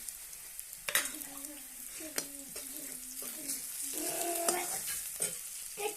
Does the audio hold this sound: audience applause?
no